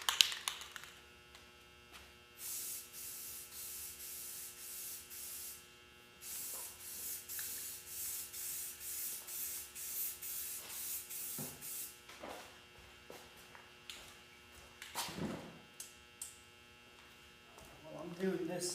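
A spray can hisses in repeated short bursts as a second coat of paint goes onto a motorcycle helmet, each blast a couple of seconds long with brief gaps between, over a faint steady electrical hum.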